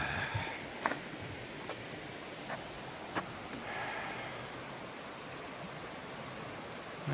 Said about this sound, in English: I've been walking along water for at least 3 hours today. Even if I don't see it, I can hear it